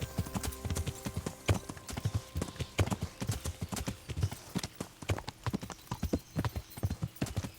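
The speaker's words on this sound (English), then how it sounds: "Someone's left their horse." Horse hooves clip-clop in the medieval game Kingdom Come Deliverance: a steady, close, rhythmic run of sharp hoof strikes that carries on through the whole stretch with no voices over it.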